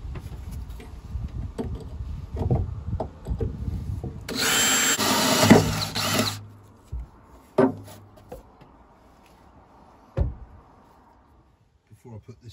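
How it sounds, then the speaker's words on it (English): A power drill whirs loudly in one sustained burst, surrounded by clunks, knocks and handling noises from work nearby. "drill out the holes"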